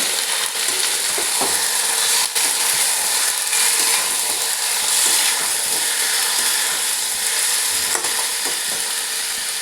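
Mutton stirred in a frying pan while papaya and meat cook, steady loud hiss of frying with intermittent scraping of the spoon against the pan, close and continuous without speech.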